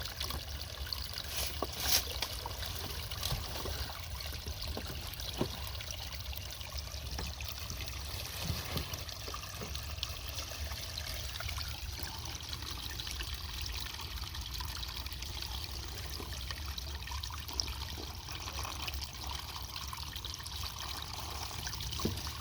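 Spring water runs through a small hose into a bottle outdoors, a steady, continuous trickling rush that holds at an even level throughout with no talking.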